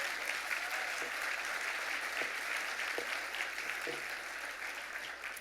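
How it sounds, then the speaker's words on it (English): Steady applause from a dinner audience at the Bernard Baruch Dinner fills the room, sustained clapping at moderate distance that begins to taper near the end. "I hope you know those claps were for yourselves"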